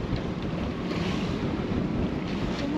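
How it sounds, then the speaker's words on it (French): Strong wind buffeting a boat in a swell near Toau atoll, with a constant broadband rush of air and water washing against the hull, loud and steady with no voices. "il y a un peu la houle, il y a pas mal de vent"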